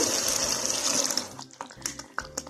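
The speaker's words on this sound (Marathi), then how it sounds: "त्यानंतर यामध्ये गरम पाणी घालू." Hot water pours in a steady rush for over a second into a pan of curry, then stops, followed by a few soft clinks and stirring sounds up close.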